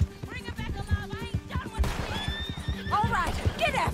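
A horse whinnies in Red Dead Redemption 2 during a gunfight chase, its rising neigh standing out amid clattering hooves, gunfire and shouted speech.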